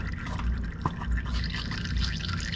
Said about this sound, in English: Hear it dribbling now.